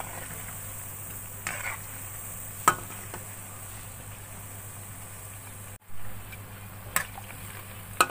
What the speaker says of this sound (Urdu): اب ان کو ہلکی آنچ میں فرائی کرنا ہے